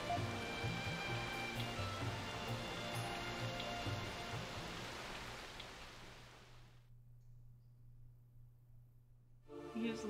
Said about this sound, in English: He just lays there in the rain?